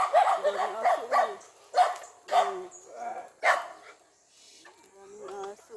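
Several dogs bark in quick overlapping bursts, some yipping, mixed with people talking nearby during an outdoor bike ride, then a brief quiet before a whine at the end.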